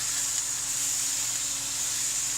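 Filet mignon searing in a hot pan makes a steady, even, close sizzling hiss that holds throughout with no breaks or voices.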